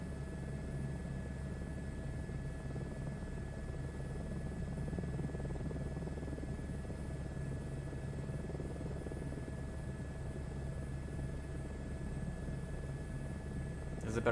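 Steady helicopter rotor and engine drone from Microsoft Flight Simulator 2024, a continuous even whir at moderate level with no talk over it.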